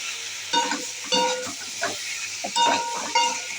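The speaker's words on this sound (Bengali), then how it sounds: "এই ডিম আর আলু একসঙ্গে দিয়ে দিয়েছি, আলুটা সেদ্ধ করা আছে।" Egg and boiled potato fry together in hot oil with a soft sizzle, broken by several short stirring scrapes in the pan, quiet and close.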